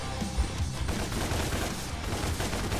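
Ebony and Ivory high-caliber handguns firing in Devil May Cry, a rapid dense barrage of shots in quick succession, loud and continuous with no talking.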